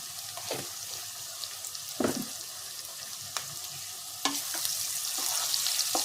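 Chili and garam masala fry in hot oil for a home-style mutton curry, giving a steady, close sizzling hiss with occasional stirring clinks and scrapes.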